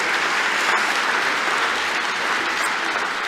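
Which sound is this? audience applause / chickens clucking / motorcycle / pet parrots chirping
audience applause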